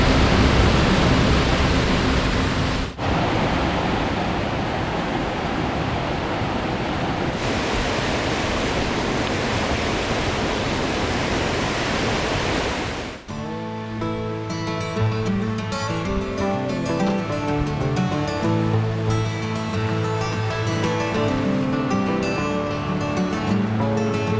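Loud, steady rush of Avalanche Creek in Glacier National Park fills the first half, then drops away as layered music takes over for the rest.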